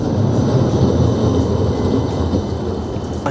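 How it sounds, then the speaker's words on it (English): A West Midlands Metro tram arriving at Wednesbury Parkway on its way towards Edgbaston, a loud, steady low rumble and hum of the approaching vehicle, heard alone. "And here comes a tram in that direction to Edgbaston."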